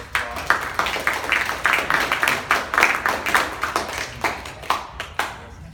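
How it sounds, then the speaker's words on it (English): A small audience at a poetry open mic claps in distinct, rhythmic, fairly close handclaps, a few dozen sharp claps that thin out and fade toward the end. "So let's give them a big round of applause."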